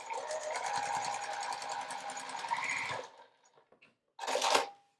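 A domestic sewing machine stitches across a marked line on fabric, a fast steady whirring buzz for about three seconds, then a brief pause before a second short burst of stitching.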